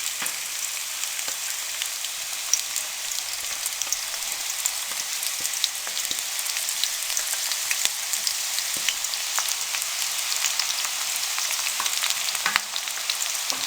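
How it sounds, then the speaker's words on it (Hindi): Finely chopped onions sizzle steadily in hot cooking oil in a kadhai, a loud, dense, continuous frying hiss with no voices over it. "कुकिंग ऑयल हमारा गर्म हो चुका है। अब इसमें हम बारीक कटे हुए प्याज डाल देंगे।"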